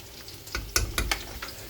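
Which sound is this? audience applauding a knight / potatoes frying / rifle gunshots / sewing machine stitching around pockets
potatoes frying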